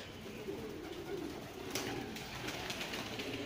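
Low, soft cooing of several hungry Hünkari pigeons, repeating gently under a steady background hum. Brief light rustles are heard, with no talking.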